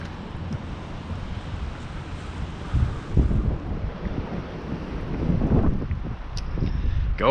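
Strong wind gusts buffet the microphone out on the water while crappie fishing, a constant roaring rumble that swells louder in surges, with faint water and boat noise beneath and no speech.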